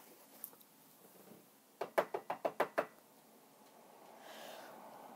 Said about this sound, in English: Alice went timidly up to the door and knocked.